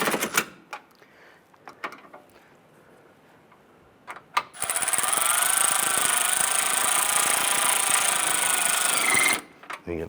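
Bolts on a battery hold-down in a 2012-2017 Toyota Camry are run down with a power tool, a steady whirring buzz lasting about five seconds after a few scattered clicks and light handling taps, close and fairly loud.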